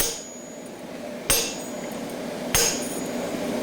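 Two sharp metal hammer blows on a creaser fuller during farrier work, evenly spaced about a second apart, each ringing briefly over a quiet shop background.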